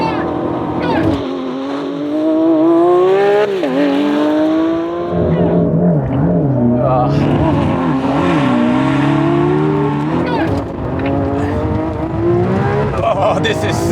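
A Lamborghini Aventador Ultimae and a Mercedes-AMG GT Black Series launch in a drag race, with loud engines roaring and climbing through the gears, pitch rising and dropping at each shift and sustained wind-heavy roar throughout.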